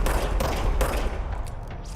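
Gunfire in the game Control, a couple of sharp loud gunshot bursts in quick succession, close and punchy, trailing off into a fading rumble.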